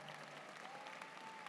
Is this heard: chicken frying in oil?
no